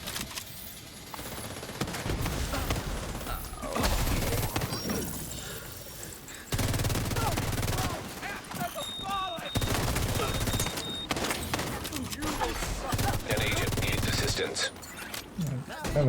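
Rapid bursts of automatic gunfire in a video game, loud and repeated in several volleys over about sixteen seconds, with brief lulls between them.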